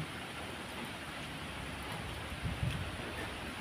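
Steady heavy typhoon rain in Taiwan with a broad rushing wind roar, constant and enveloping, with a few louder gusts toward the end.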